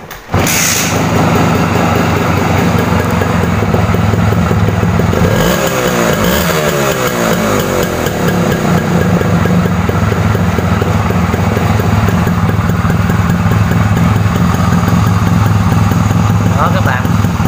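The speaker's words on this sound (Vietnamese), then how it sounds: "mình sẽ nổ máy để các bạn nghe lại cái tiếng bô Trung Quốc" A Simson S51 motorcycle fitted with a Chinese exhaust runs loud and close throughout, with a rough, continuous engine drone that shifts pitch slightly as it revs. A voice may speak over it.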